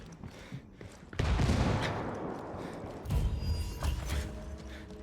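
A frag grenade in a shooter video game bursts with a sudden heavy boom, followed by a rumbling, crackling tail of debris and scattered gunfire-like pops.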